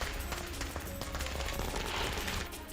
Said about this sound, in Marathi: यावेळी फटाक्यांची आतषबाजी करून कार्यकर्त्यांनी आनंद व्यक्त केला